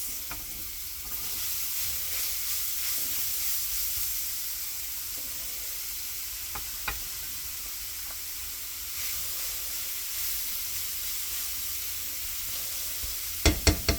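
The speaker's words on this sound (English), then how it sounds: "Okay, so now I'm putting in my carrots." Carrots sizzle steadily in olive oil in a pan for an omelette, a constant close frying hiss with occasional stirring clicks and a few sharp scraping taps near the end.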